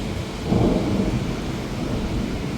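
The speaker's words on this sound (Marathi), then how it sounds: "पाऊस सुरू झालाय." A thunderstorm with steady rain, a loud continuous wash of rainfall with a low rumble of thunder swelling near the start and rolling on beneath it, with no voices.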